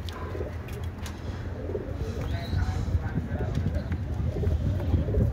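Birds cooing and calling against a steady low rumble and clattering background, with a voice talking faintly now and then.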